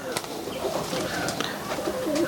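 Giribaz pigeons, a pair of black birds on a Rajshahi farm, coo softly and repeatedly at close range in a short burst with faint rustling behind.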